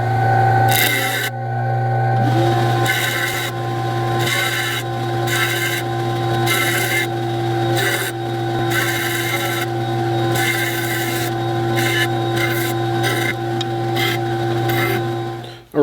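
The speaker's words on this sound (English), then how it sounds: "So I'm just going to do that here on the 12-inch sander." A 12-inch sander grinds resin pen blanks: a constant motor hum runs underneath while repeated bursts of abrasive contact rise and fall in short pulses, close and loud.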